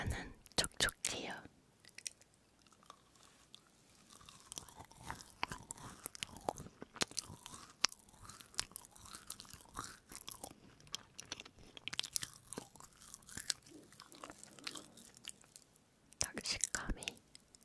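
Homemade butter cookies, crisp outside and soft inside, are bitten and chewed close to the mic in repeated crunchy bursts, with soft whispered speech between bites.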